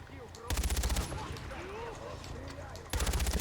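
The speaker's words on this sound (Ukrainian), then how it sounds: "Стріляють, стріляють." Bursts of automatic gunfire in the video game Far Cry 4, two sharp rapid volleys separated by quieter battle ambience.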